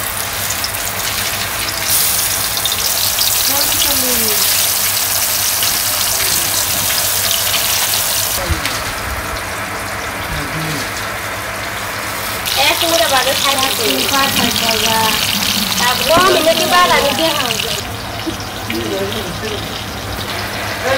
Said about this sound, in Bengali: আমার তেলটা গরম হয়ে গেছে, আমি এখন দিয়ে নিই।